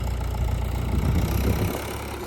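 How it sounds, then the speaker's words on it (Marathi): A tractor engine idles nearby outdoors in a village, a steady low rumbling drone with no talking. "हे बघा अभिजित ट्रॅक्टर"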